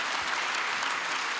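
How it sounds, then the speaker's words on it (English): Audience applause at a leadership panel discussion, a steady dense patter of many hands clapping together, moderately loud and continuous, with no voices over it. "Yeah, big round of applause."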